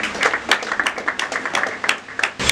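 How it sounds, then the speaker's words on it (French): Audience applause at a gathering of a Congolese family troupe, a dense patter of clapping hands that rises and falls in several swells, fairly close and steady, with no speech over it. "s'il vous plaît, applaudissez"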